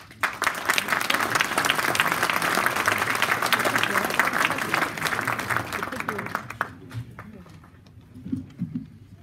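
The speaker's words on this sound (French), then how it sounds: "Je croyais que les applaudissements allaient être plus nourris que ça" An audience at an agricultural conference session on Côte d'Ivoire, at the Salon International de l'Agriculture 2020, gives dense, sustained applause for several seconds, which then tapers off as a voice begins speaking.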